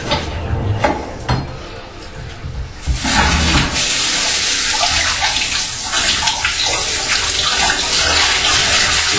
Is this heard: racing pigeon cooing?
no